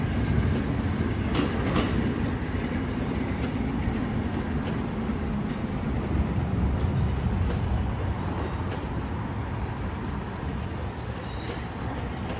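A freight train rolls past near Toledo, its wheels and cars giving a loud, continuous rumble and rattle with faint rhythmic clicks throughout.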